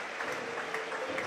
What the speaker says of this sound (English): But applause from the majority of the fans there.